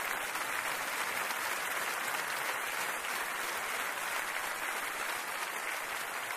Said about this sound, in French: Applaudissez ce jeune homme.